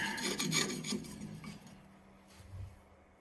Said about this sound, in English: just a chisel, and I pop the seal on it.